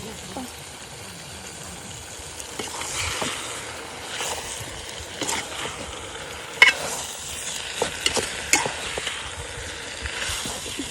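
Dried fish curry with sour fruit being stirred and fried in a pan, a steady low sizzle under scattered scraping clicks of the spoon, with a few louder knocks toward the end.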